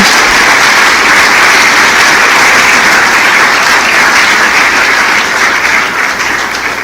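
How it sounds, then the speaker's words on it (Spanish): A church congregation applauds for Jesus during a sermon with loud, sustained, thick clapping that blends into a continuous roar and eases slightly at the end. "Denle un aplauso a Jesús"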